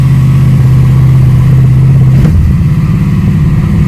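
Car engine revving after a Holden LS engine swap, a loud steady low drone from close by that holds, dips briefly in the middle, then carries on.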